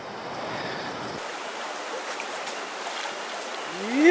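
Steady rushing water of a cold creek flows continuously, close and moderately loud, with a faint rising whine near the end.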